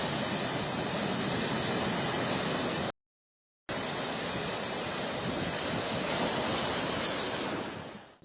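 Rough sea surf pounds the coast of southern Kerala near Thiruvananthapuram, driving water into nearby houses; a loud, dense, continuous roar of crashing waves fills the scene, broken by a brief gap of silence before it resumes.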